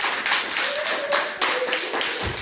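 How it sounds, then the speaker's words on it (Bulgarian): Applause for children at a first-grade school celebration: a dense, continuous patter of many hands clapping, fairly close and lively throughout. "Аплодисменти за децата."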